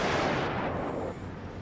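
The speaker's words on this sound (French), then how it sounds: "Là, Papy, il tire." Naval ship guns firing in the World of Warships video game, one heavy booming blast with a rumbling decay that fades over a second or so, loud and alone.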